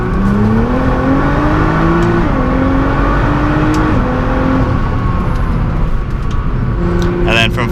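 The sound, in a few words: Nissan GT-R Stage 2 tune accelerating on highway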